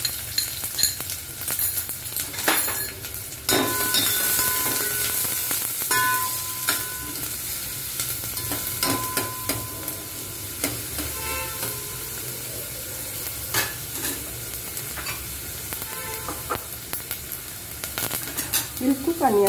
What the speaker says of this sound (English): We'll cook onion for 5 minutes till it becomes translucent.